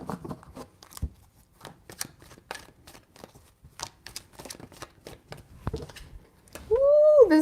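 A tarot deck is shuffled by hand in a quiet room, with soft, irregular riffling and tapping bursts, followed by a short, louder tonal sound at the end.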